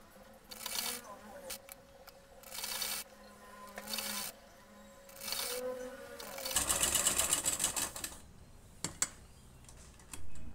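A domestic sewing machine stitches the sleeve seam of a nighty, running in several bursts of fast, even whirring with short pauses between them, followed by rustling of fabric being handled. A faint voice is heard at moments.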